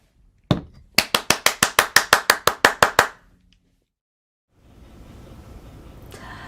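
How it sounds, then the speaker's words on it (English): Sharp, even hand claps from a single person, about a dozen in a quick steady rhythm, close and loud, followed by a pause and then a faint broad hiss of distant applause-like noise, with no talking. "Put your hands together"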